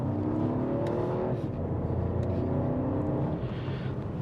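A BMW 2 Series Gran Coupe with a 4-cylinder engine accelerates with the gearbox in sport mode, a steady close engine drone rising gradually in pitch, heard from inside without talking.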